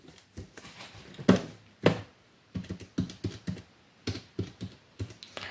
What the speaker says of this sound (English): When you're typing it in the calculator, you don't need to put the 0 at the end.